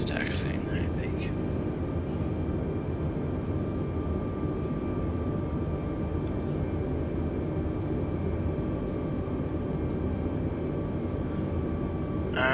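An airliner taxis in Microsoft Flight Simulator, a loud steady jet engine drone with constant broadband rumble lasting throughout, faint clicks near the start and end.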